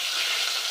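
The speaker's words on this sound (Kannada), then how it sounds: "ಹಸಿಮೆಣಸಿನ್ಕಾಯಿನೂ ಹಾಕ್ತಾ ಇದ್ದೀನಿ ನೋಡಿ." Green chillies fry in hot oil with a steady, loud sizzle that holds evenly. They are cooking for sabudana khichdi.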